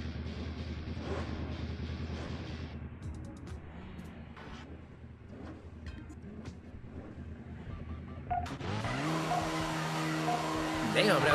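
Cars in the racing video game Midnight Club 3 Dub Edition Remix roar with engine drone and tire squeals, building to a louder burst of crashing noise near the end, with someone talking over it.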